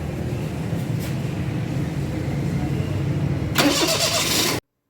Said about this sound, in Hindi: और उसके बाद आप गाड़ी करें स्टार्ट।